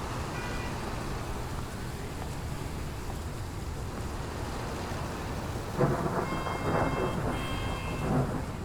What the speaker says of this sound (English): Ooh, we got some thunder